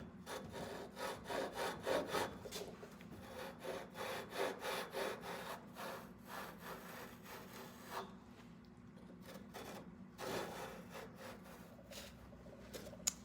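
A handsaw cuts along the edge of a worn wooden piece during a furniture restoration, in a steady rhythm of rasping back-and-forth strokes close to the listener. The strokes pause briefly, then resume more softly.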